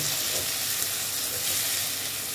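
Grated onion sizzles and fries in a hot pan for an aloo dum, a steady, close hiss with no talking.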